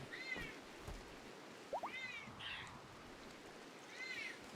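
A house cat meows several times, each call short and rising, spaced out over a soft steady background hiss, close and moderately loud, with no talking.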